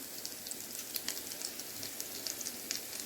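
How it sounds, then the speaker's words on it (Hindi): Aloo chicken kebabs frying in a pan over medium heat, a steady close hiss of sizzling oil with scattered small pops and crackles throughout, no talking. "कबाब फ्राई हो रहे हैं।"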